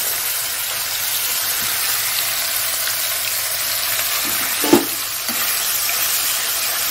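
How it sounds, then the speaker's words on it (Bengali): Amudi fish fry in a frying pan in a home kitchen, giving a steady, even sizzle throughout with one brief clatter near the end; close and fairly loud, with no voices. "আমুদিগুলো ভাজা হোক।"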